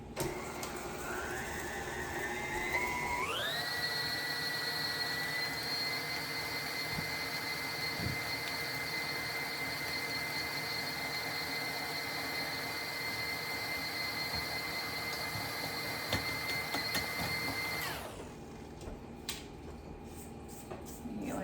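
A stand mixer with the paddle attachment beating cookie dough, its motor whining up to a steady high-pitched hum that runs for about fifteen seconds before winding down, with faint clatter in the background.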